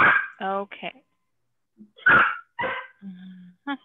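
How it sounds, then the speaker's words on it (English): A dog lets out a few short, close yelping barks in quick bursts, mixed in with a person speaking nearby in a quiet room. "That's a dog going,"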